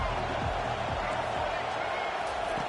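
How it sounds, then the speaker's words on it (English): Stadium crowd roaring for the defense on third down at a football game, a dense, steady wash of cheering at an even loud level throughout, heard alone without nearby talk. "Decibels rising as the crowd gets behind this defense on third down."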